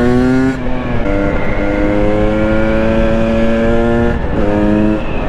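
KTM 300 EXC TPI two-stroke motorcycle from 2020, set up as a supermoto, revving hard on the road with rising harmonic engine tones shifting through gears, close and loud throughout.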